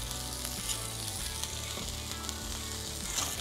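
Patty melt burgers with Munster cheese and onions sizzle steadily on a hot griddle, a loud, continuous close-up frying crackle with no talking.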